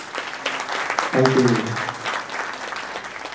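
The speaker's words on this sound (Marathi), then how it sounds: "टाळ्यांचा जोर मगाशी वाढायच्या ऐवजी आत्ता वाढला" Applause from an audience at a Marathi film and OTT grant discussion event, steady and moderately loud throughout, with someone briefly speaking over it.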